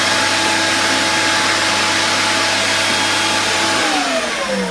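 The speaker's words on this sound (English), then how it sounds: "Quite a little versatile little vacuum really, isn't it?" A 1980s Hoover Spirit S3261 upright vacuum cleaner with a Quadraflex Powermatic head runs loudly and steadily with a constant motor whine, then its pitch shifts near the end as the motor changes speed.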